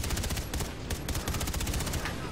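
Rapid gunfire from a stronger weapon in the video game Far Cry 3, a dense, loud burst of repeated shots hammering steadily for a couple of seconds.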